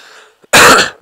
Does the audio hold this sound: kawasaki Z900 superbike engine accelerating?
no